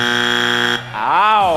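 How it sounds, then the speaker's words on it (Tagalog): The Pilipinas Got Talent judges' buzzer blares loud and steady, cuts off briefly, then returns with a wavering, siren-like rise and fall. "may we have a sample of the buzzer?"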